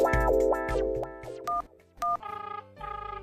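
A telephone is dialed: a brisk run of electronic keypad tones, some short and some held, followed by two pulsing ringback bursts, all clear and close with no talking.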